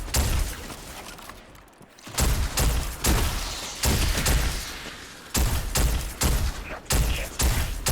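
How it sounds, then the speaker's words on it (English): Scout rifle fire in Destiny 2, a series of sharp, evenly spaced single shots with short gaps between them, loud and close with no voices. "I'll use a scout rifle"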